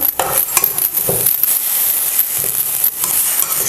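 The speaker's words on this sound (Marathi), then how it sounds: "दूध घालून आपल्याला चांगलंसं सगळे मिक्स करून घ्यायचं" A pan of carrot halwa being stirred after milk is poured in, giving steady scraping and clinking of a spoon against the pan with light sizzling, close and continuous with a few sharper knocks.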